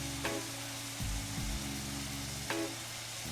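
Mushrooms sautéing in a pan without oil, seasoned with ginger lime aminos, hiss in a steady soft sizzle, broken by a few brief stirring scrapes and clatters.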